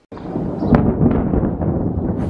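Thunder from a dark storm cloud rolls in as a sustained, heavy rumble with a sharper crack early on, outdoors near Lake Bled in Slovenia, fairly loud and continuous with no talk.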